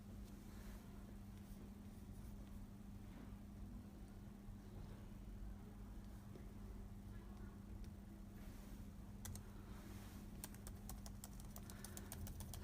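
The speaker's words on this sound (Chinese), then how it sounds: "然后我们试一下键盘" Keys clatter on a newly replaced laptop keyboard, very faint scattered taps that grow into quicker bursts near the end over a steady low hum.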